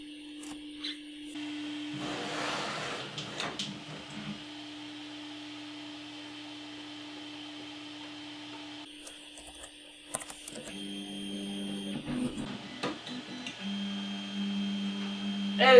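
Stepper motors on a 3D printer drive the Z-axis down toward the bottom, giving a steady whining hum with pitch changes and a short rougher burst along the way, heard close and fairly quiet.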